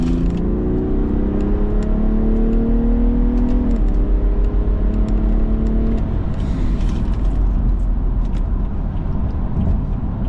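A BMW 435d diesel revs hard in third gear after a downshift, its engine note climbing steadily and loud for several seconds before easing into a steady cabin whir.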